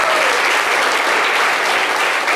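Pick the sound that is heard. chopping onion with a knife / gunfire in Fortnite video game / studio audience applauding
studio audience applauding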